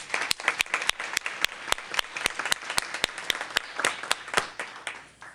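Audience applause honoring students at a school board meeting: scattered, fairly close hand claps with sharp individual strikes mixed into a broader patter, continuing steadily before thinning out at the end.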